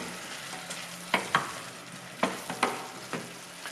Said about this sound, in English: And stir a little bit.